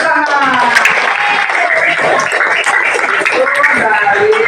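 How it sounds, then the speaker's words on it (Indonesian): A class of primary school pupils claps hands together, loud and close, with children's voices and chatter mixed in throughout. "tepuk tangan"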